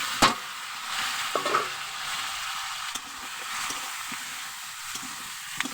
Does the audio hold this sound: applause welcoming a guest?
no